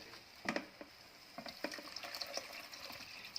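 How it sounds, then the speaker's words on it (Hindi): Water is poured into a pot of coriander rice on the stove, a soft close splash and trickle with small clinks, quiet and without speech. "अब इसमें पानी भी डाल देंगे"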